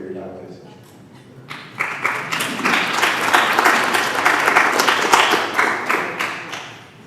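Audience applause fills a committee meeting room, a dense, sustained burst of many hands clapping that swells and lingers for several seconds after a brief spoken remark.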